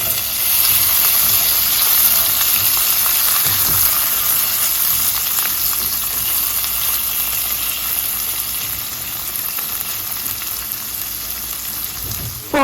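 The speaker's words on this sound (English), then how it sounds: "I'm going to add fresh cherry tomatoes and sun-dried tomatoes." Cherry tomatoes and sun-dried tomatoes hit a hot pan with onion, giving a steady, loud sizzle and hiss that holds for the whole stretch, with a brief stir near the end.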